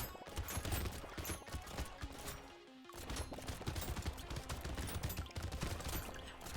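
Laser guns in the video game Brotato fire projectiles in a dense, rapid, continuous barrage of overlapping shots, with a short dip midway before the fire resumes.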